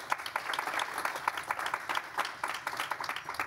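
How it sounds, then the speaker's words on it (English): An audience welcomes the panelists of the Women in Justice Project with applause, fairly faint, distant clapping in a loose, uneven rhythm from a modest crowd. "Please join me in giving them a round of applause."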